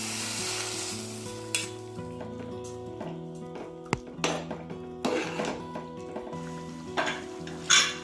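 Chopped capsicum goes into a pan with partly cooked rice for capsicum bath and is stirred over the heat. Soft sizzling runs under scattered clinks and scrapes of the spoon against the metal pan, with a steady tonal hum behind.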